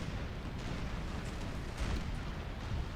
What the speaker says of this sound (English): Santissima is laying its cannons into this one.